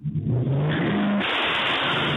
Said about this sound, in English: A quick rev of the engine, then bang.